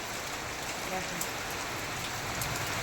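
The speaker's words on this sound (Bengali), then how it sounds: "26 তারিখে বৃষ্টি নেমে গেল" Steady rain falls in a constant, even hiss, close and uninterrupted for the whole stretch.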